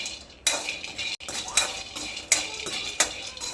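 Peanuts roasting in a pan, stirred with a metal spoon: sharp, close scraping and clinking strokes come in irregular bursts over a soft background.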